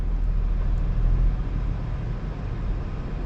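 A 2022 Jeep Grand Cherokee Trailhawk crawls up onto a group of rocks, its engine a steady low rumble close by with a muffled, even drone and no sharp impacts.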